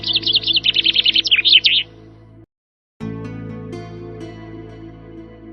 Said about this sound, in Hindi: वो जोर जोर से चहचहाने लगा